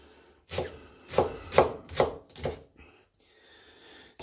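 Vegetables cut with a knife on a board while making tattie and leek soup, four or five distinct close chopping thuds in a short run, then quiet.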